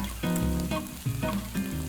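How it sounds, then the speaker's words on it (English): Steady low sizzling of onions frying in a pan, close by and continuous, with soft crackles and a gentle hiss throughout. "you can hear it's a good temperature, and you want that nice low sizzle"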